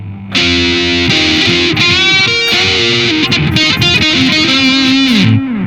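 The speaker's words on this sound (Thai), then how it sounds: "เปิดก็เป็นเสียงแตก นั่นเองป" Loud, distorted electric guitar chords through a Boss GX-100 ring out, thick and gritty, played in a steady sequence and then cut off at the end.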